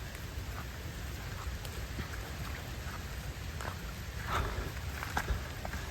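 Rain falling in a dense, humid forest, a steady close wash of rainfall with scattered louder drips and taps throughout, no talking.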